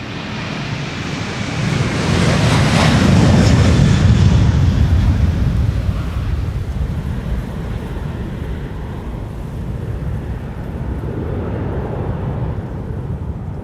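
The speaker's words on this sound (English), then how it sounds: "coinciding with the departure of the A330, which I prefer to follow," An Airbus A330 departing Amsterdam Schiphol Airport, a loud roaring jet rumble that swells to a peak in the first seconds, then slowly fades into a distant wash of engine noise.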